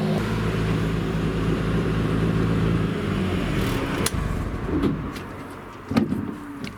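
A Nissan S14 idles while warming up to operating temperature, giving a steady, loud low rumble that eases after a few seconds, followed by a few sharp clicks and knocks nearby.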